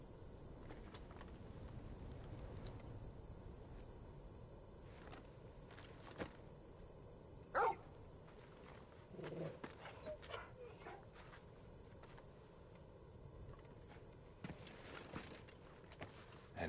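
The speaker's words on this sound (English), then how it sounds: "And who's this fine hound I see before me?" Torgal the hound in Final Fantasy XVI gives a few faint, scattered whimpers and short barks against quiet game ambience and soft footsteps, with sparse voices between.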